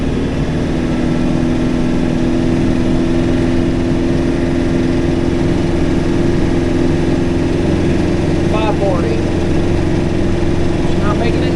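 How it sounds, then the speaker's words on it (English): A tractor runs a PTO-driven brush hog mower at 540 rpm in the first mowing of the year, giving a loud, steady, close engine drone that continues without a break through the whole stretch. "hit the PTO, smooth, run her up to 540"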